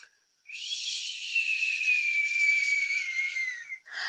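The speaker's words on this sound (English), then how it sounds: "a soft, soft whistle" A soft, steady whistle holds one sustained, slightly falling tone for about three seconds, close and clean in otherwise quiet air, with a short breathy sound at the end.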